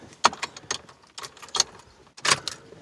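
Car keys jingle and clink in a series of short metallic bursts, close by and fairly quiet, as they are handled and inserted into a vehicle's ignition.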